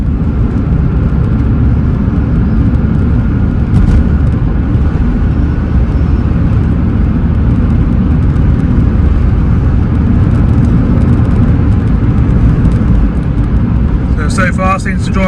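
A Suzuki Swift VVTS GLX drives along with its engine droning loudly and steadily from inside the cabin, road noise blending with the motor throughout, and a short rattle near the end.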